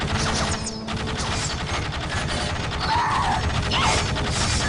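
A machine cult structure goes up in Warhammer 40,000: Dawn of War, a dense clatter of ratcheting, clanking gears and metallic mechanisms with creaks, loud and continuous without pause.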